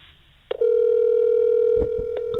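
A telephone ringback tone sounds loudly and steadily, starting abruptly after a brief click while calling someone's phone, holding a constant pitch alone.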